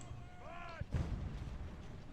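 Artillery shelling in Ultimate Admiral: Age of Sail sounds as one heavy boom with a rumbling tail, preceded by a brief whistling tone, set against a steady low battle ambience.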